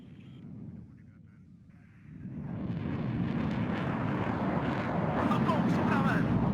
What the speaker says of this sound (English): Big helicopter on the side there